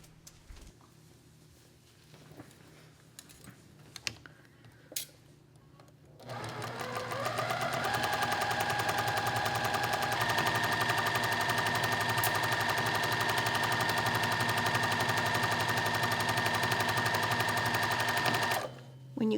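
A sewing machine stitches a seam on a vintage Sunburst foundation-paper quilt block, starting after some quiet handling noises and running steadily and loudly for about twelve seconds before stopping.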